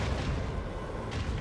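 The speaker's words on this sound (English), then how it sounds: "Macro cannons, open fire." Heavy booming salvo of macro cannons in Warhammer 40k Rogue Trader, a dense rolling barrage of blasts at loud volume, a second burst landing near the end, with no talking.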